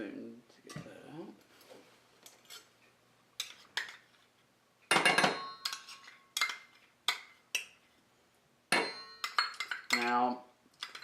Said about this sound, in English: Okay, we have some Dijon mustard. Use a spoon to get that out.